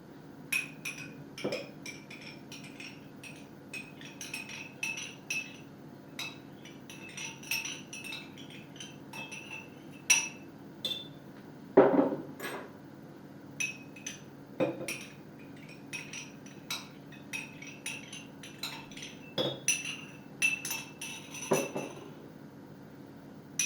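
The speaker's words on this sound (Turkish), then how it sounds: "Önce yulafın üzerine yoğurdumuzu koyuyoruz." A spoon clinks and scrapes against a dish while yogurt is spooned onto oats, giving repeated light metallic taps and scrapes over a quiet kitchen background, close by and without speech.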